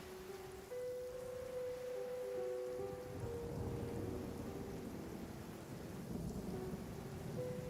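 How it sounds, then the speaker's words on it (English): Rain pours steadily in a Genshin Impact thunderstorm while thunder rumbles low and long beneath it, a continuous wash of rainfall with a faint tonal hum running through, no voices. "The thunder drowns out all other sounds, hampering my perception of the surrounding environment"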